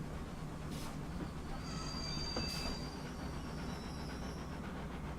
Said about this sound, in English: I hear another train somewhere.